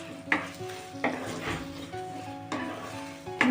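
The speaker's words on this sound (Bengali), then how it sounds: "এটা আমি একটু নাড়াচাড়া করে নেবো।" Flat beans (sheem) are stirred in a cooking pan, giving a few distinct scraping strokes over a soft sizzle, close by and with no talking.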